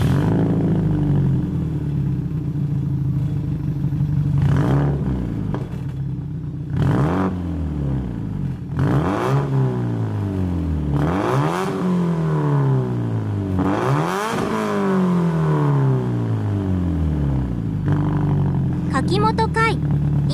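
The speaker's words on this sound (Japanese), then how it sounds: "エキゾーストサウンドチェック。" A Subaru Impreza WRX STI Spec C engine with a Kakimoto exhaust is revved repeatedly, each rise in pitch climbing and falling back, with a deep exhaust rumble between blips and a brief clatter at the end.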